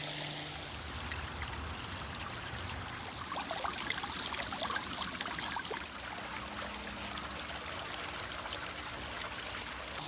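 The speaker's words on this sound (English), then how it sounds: "The sound of water can actually reduce stress." A garden fountain trickles and splashes continuously, a soft, steady wash of running water with no voices over it.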